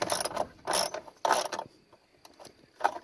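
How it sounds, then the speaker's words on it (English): A 10mm socket ratchet clicks in a few short close bursts while tightening a bolt on a catch can install, with quiet pauses between strokes. "Took a 10mm socket."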